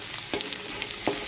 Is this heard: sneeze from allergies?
no